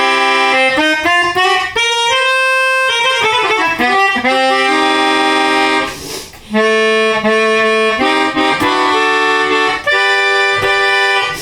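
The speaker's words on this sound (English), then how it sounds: "this is called melodica or a hooter," A melodica, also called a hooter, plays a loud, sustained reedy melody alone, its notes shifting steadily with one brief dip in the middle before the tune continues.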